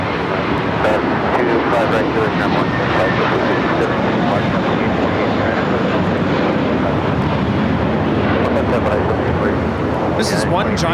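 A JetBlue Airbus A321 airliner takes off from LAX bound for JFK, a loud, steady broadband engine roar that fills the whole clip, with voices talking over it.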